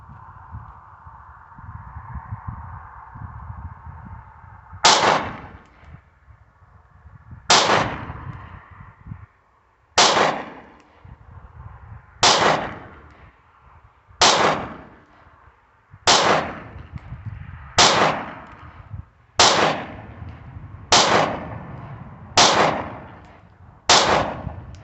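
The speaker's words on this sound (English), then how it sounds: "I'm going to be shooting at the bottom target now." Taurus G3C pistol fired at a target, eleven sharp, loud shots spaced a couple of seconds apart, each followed by a brief ringing decay.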